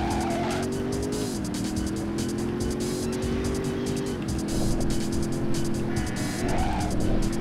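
A car in the video game Driver 2 revs and cruises with a steady engine drone, tires squealing and skidding through turns, loud and close throughout with no talk.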